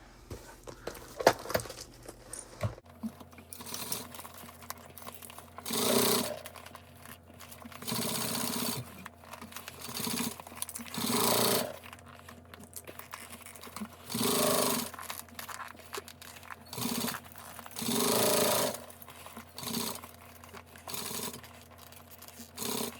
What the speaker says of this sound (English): we're going to go ahead and sew this at a 1/4 inch seam allowance